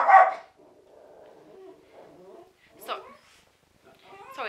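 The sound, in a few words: dog barking at a dog on TV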